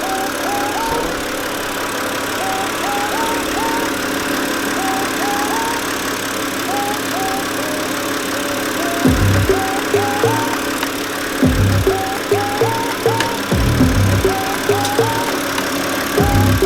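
A BMW E90 engine fitted with a cold air intake idles steadily, then revs hard three times in quick bursts, each with a deep intake roar that fades back to idle.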